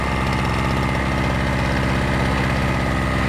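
A Harbor Freight TailGator two-stroke generator engine runs at a steady idle, a close, loud, continuous rapid putter with an even, buzzing rhythm that never changes pitch.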